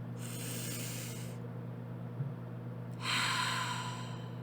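Ujjayi pranayama breath with a constricted throat: two smooth, hissy airflow passes, one slow breath then a stronger second, close and alone over a low steady hum.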